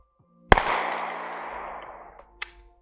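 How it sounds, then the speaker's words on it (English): A Husan Arms MKA919 TR2 shotgun malfunctions and fires twice: a sharp, loud blast with a long ringing decay, followed about two seconds later by a second, fainter report. "you heard the double tap. It shot 2 times in a row."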